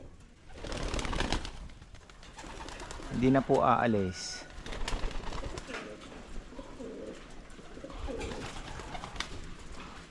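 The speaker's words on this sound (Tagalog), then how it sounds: "Ganda ng ibon na yan ha." A pigeon gives a brief throaty coo close by, amid outdoor background noise, with a person speaking briefly.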